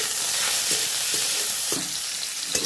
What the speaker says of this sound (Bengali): প্রথমে ফুলকপিটা ভেজে নেব নুন দিয়ে দেবো হালকা হলুদ দিয়ে দেবো